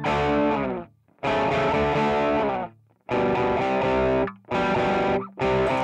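An electric guitar runs through a Boss GT-1000 modelling a Vox AC30 amp with heavy distortion, loud chords ringing out in several bursts separated by short silent gaps.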